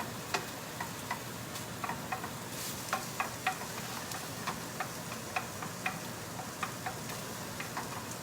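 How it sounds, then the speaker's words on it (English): An egg scrambled in a hot pan with chop suey vegetables close by, a steady faint sizzle broken by repeated light ticks and taps of a utensil stirring against the pan. "I'm going to put my egg in here, and I'm going to scramble that egg up."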